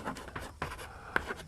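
A short burst of handwriting as an equation is written out during a class 10 maths lesson, with scratchy pen or chalk strokes and a couple of sharper taps.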